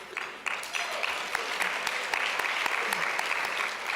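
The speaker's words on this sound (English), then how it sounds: "that deserves some applause and music" Audience applause at a women's entrepreneurship conference honoring a radio executive: dense, steady clapping from a crowd, fairly distant and continuous for a few seconds, with faint voices mixed in.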